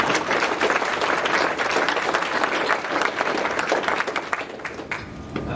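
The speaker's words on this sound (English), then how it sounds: "if I can get a quick round of applause" An audience at a military change of command ceremony breaks into sustained, dense applause that holds for several seconds before thinning at the end.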